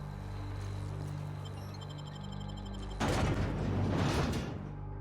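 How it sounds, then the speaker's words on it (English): Gunfire in the sci-fi video game The Outer Worlds: a low rumbling game backdrop gives way to a sudden loud burst of rapid, dense shots that continues to the end. "Hey, is that gunfire?"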